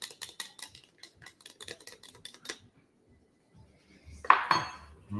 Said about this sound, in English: we have to whisk together cilantro sauce and labna